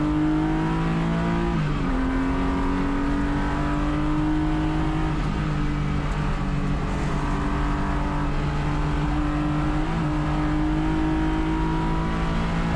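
A touring race car at Sonoma Raceway holds a loud, steady engine drone through turn 7, with the pitch dipping at each gear change before rising again under throttle, heard close from inside the car.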